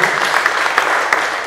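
A church congregation claps during a worship service, producing a dense, steady wash of applause with a few sharper individual claps standing out, fairly loud and close throughout.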